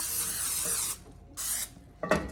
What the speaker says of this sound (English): Spraying my casserole dish with some Pam.